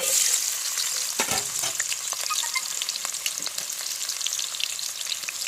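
Loud, dense sizzling of onions dropped into hot oil, crackling steadily up close with a few sharp pops and scraping stirs.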